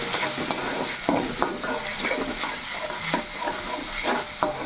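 Coconut and pepper masala paste sizzles steadily while frying in a pan, with repeated scraping strokes of a spoon stirring it every second or so, close and moderately loud with no voices.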